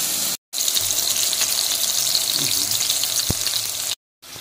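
Homemade hamburger patties frying in a pan, giving a steady, fairly loud crackling sizzle that runs throughout, with brief silent gaps near the start and end and no voices.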